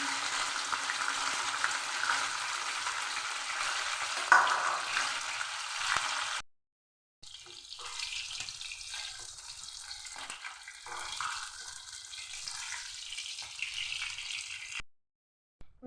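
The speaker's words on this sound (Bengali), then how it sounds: "প্রথমে আমি কড়াই তেল দিয়ে মাছ ভেজে নিচ্ছি আমি রুই মাছ দিয়ে করছি" Rohu fish frying in oil in a wok, a continuous hissing sizzle that stops briefly partway through and then resumes, ending in a short silence, with no talking.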